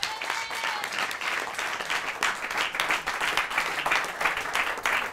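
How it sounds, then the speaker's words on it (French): Applause from an audience at an evening French variety show as a performer is called on stage: continuous, fairly full clapping with a slight swell and fall, spread across the room and heard on its own. "Je vous demande d'applaudir très fort Monsieur PV."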